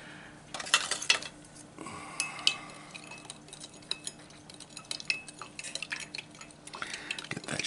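A spoon stirs lemonade drink mix in an MRE pouch, with close metallic clinks and scraping that come in irregular bursts over several seconds, and no one talks.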